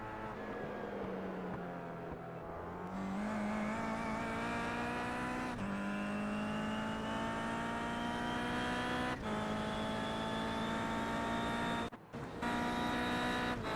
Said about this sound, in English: Let's just listen into his engine sound right now as he heads for the final corner.